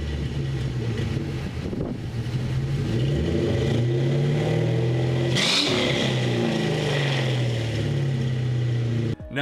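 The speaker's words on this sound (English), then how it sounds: "of course a great sounding V8 engine" A Ford Mustang GT V8 revs close and loud, its deep engine note rising and falling repeatedly with a sharp throttle blip partway through.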